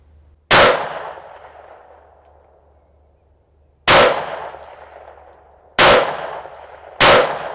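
Four sharp, loud gunshots from a pistol firing CCI Stinger rimfire rounds, the first alone and then three in quicker succession, each with a short decaying echo and no talk.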